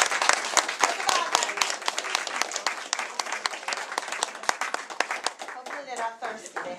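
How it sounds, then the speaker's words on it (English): An audience at a children's Halloween-style show applauds the young actors who played vampires. Claps are loud and scattered, with sharp individual hand strikes standing out from a fuller crowd patter, and the sound thins toward the end. "Give them a round of applause."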